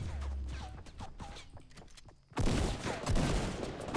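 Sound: gunfire in a video game

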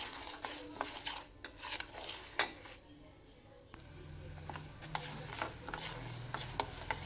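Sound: frying and stirring moong dal in a pan

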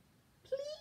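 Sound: child imitating cat meow

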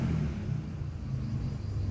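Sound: motorized tricycle passing by at dawn

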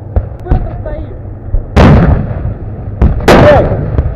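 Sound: gunfire in battle

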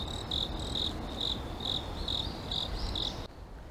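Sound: crickets chirping outdoors

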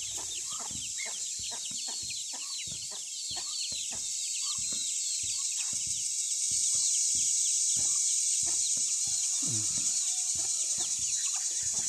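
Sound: hen with newly hatched chicks

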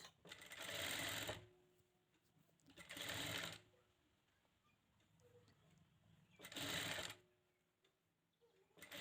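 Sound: sewing machine stitching gold lining cloth of a blouse

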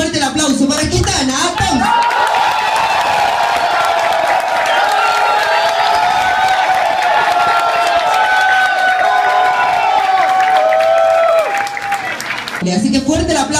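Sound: studio audience applause and cheering

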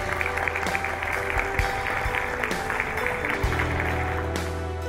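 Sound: audience applause welcoming Kabir Khan on stage

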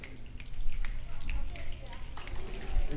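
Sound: audience snapping fingers to imitate rain

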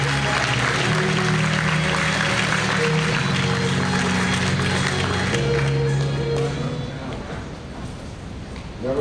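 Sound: audience applause at a rally

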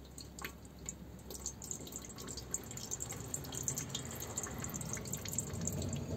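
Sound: draining water from washed food in a pot

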